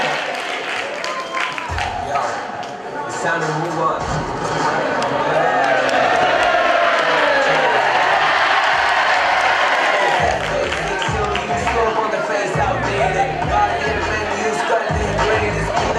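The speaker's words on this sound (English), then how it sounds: "Clap for them, huh?" Students at an induction-program creativity workshop clap and cheer in a steady, dense crowd roar that swells midway and keeps going, with a voice talking over it.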